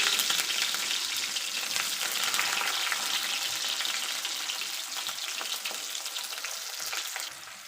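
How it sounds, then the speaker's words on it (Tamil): Chopped onions sauté in hot oil with fenugreek seeds for a Chettinad-style fish curry, giving a continuous close bright sizzle with crackles and light stirring, easing slightly at the end. "வெங்காயம் போட்டு நல்லா வதக்கிப்போம்"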